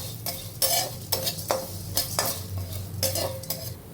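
Curry leaves and asafoetida frying in a pan, bursts of crackling sizzle broken by repeated scraping strokes of a spatula, close and busy, no voices.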